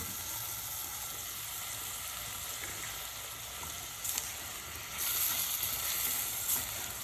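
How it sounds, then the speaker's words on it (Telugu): Chopped tomato pieces hit a pan of fried onions while cooking for an Andhra thali, giving a steady close sizzle and hiss that swells louder in the final seconds, with no talking. "ఇందులో ఇప్పుడు మనం కట్ చేసి పెట్టుకున్న టమాటా ముక్కలు కూడా వేసేద్దాం."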